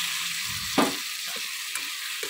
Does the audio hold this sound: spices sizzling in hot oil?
yes